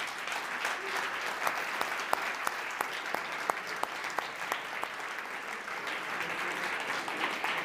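A forum audience gives sustained applause at the close of a two-day EU-NGO event, a dense steady patter of many hands with a few louder individual claps standing out.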